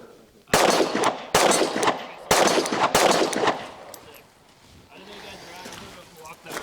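Several loud pistol shots from a Glock Gen6 fire in quick succession, sharp close cracks with echoing tails, followed by quieter outdoor noise.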